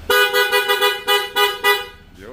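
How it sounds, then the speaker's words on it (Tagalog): A loud horn on a Honda ADV 160 scooter blasts in a quick run of about six close, bright honks before cutting off. "Loud horn."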